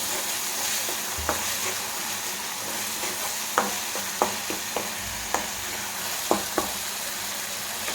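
Okra stir-frying in a pan for a Kannada-style palya, a constant oily sizzle broken by several sharp scrapes and taps of a spatula stirring it close up, with no talking.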